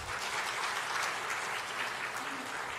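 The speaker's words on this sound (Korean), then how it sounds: "박수 한번 해주세요." A church congregation at a Sunday service applauds, giving a full, even roar of clapping hands from a large room that holds steadily for about three seconds, with no voices over it.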